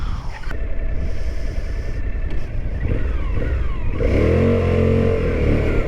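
A 2023 Suzuki V-Strom 1050DE adventure motorcycle revs on an off-road gravel surface, its engine droning steadily close by and then rising into a louder, harder acceleration near the end.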